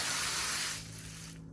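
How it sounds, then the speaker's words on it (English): Water rushes hard from a newly installed frostproof outdoor hose bib, a loud steady spraying hiss that eases to a lighter flow toward the end. "Now that the water's back on, let's test it for operation."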